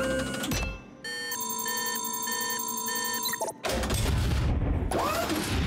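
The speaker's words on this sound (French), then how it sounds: "Nous allons utiliser cette machine à copier." A cartoon copying machine runs with a steady mechanical whir and a repeating pattern of electronic beeping tones, framed by louder, noisier bursts of clatter before and after.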